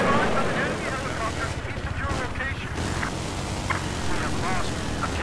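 An enemy helicopter in the video game Battlefield 4 thrums with rotor noise amid dense gunfire and battle sounds, loud and continuous throughout, with a player's voice cutting in.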